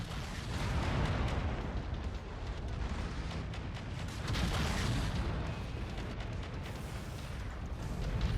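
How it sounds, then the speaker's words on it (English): Ultra AC-5 autocannon firing in a video game: a loud, dense stream of rapid booming shots that runs unbroken for several seconds, with no speech over it. "There you can tell the fire rate from that Ultra AC-5."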